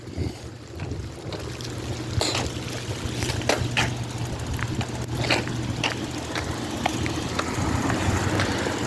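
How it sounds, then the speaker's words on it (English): Heavy rain pouring down outdoors, a dense steady wash of noise with gusty wind buffeting the microphone and scattered sharp drips and taps throughout, no voices. "Yeah, it's pouring down out here"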